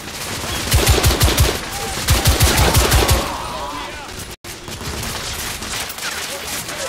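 Rapid bursts of gunfire in The Order: 1886, a video game, in loud clustered volleys over a few seconds before tapering into quieter background noise.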